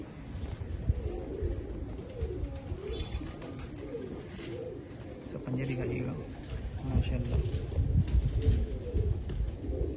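Rooftop-kept pigeons coo softly and intermittently throughout, sitting under close, steady conversation between men, with occasional light rustling.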